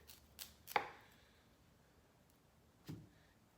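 A knife cutting broccoli florets in half on a board, giving a few quiet, sharp chops early on and one more soft thud after a pause, close and faint in a quiet kitchen.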